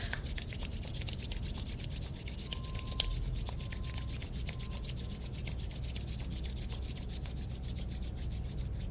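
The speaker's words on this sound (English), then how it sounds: "just rub your hands together to warm it up" Two hands rubbing briskly together to warm them before a face massage, a steady close dry friction hiss with a soft repeated stroking rhythm throughout.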